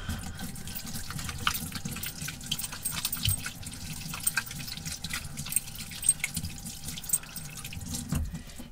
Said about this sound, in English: this is the way to wash your hands. Old-fashioned soap